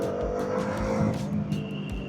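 A motorcycle engine revs steadily while being ridden fast, a loud continuous drone with rising surges and broadband wind rush up close.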